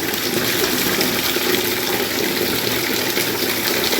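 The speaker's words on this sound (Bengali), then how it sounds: "গরম ঠান্ডা জল দুটো মিশিয়ে দিতে হবে তাকে এখন" Hot and cold water gush together into a bucket for a bath: a continuous, fairly loud rushing and splashing pour with no speech.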